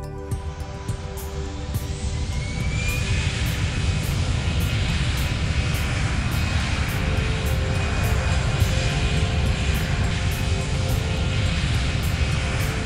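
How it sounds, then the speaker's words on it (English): An airplane roars loudly and steadily as it takes off, its engine noise broad and constant throughout with a rising whine, while the landing gear retracts during the climb. "After the aircraft is safely in the air and has established a positive rate of climb, the pilot initiates the landing gear retraction sequence."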